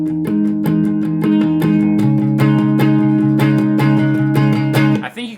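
Electric guitar in standard tuning plays a song, a fast, driving strummed riff with rhythmic picked attacks and a chord change midway, loud and close, ending abruptly.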